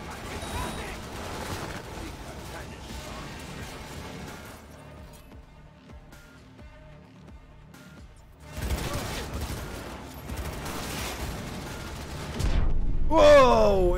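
Bursts of rapid gunfire and crashing impacts from a firefight in the video game Cyberpunk 2077, loud stretches separated by a quieter lull, with someone talking over parts of the action.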